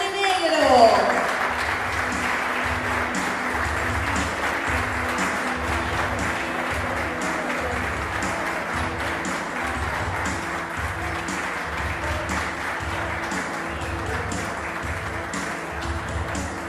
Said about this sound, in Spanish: Recibimos con un fuerte aplauso a Teresa Montenegro.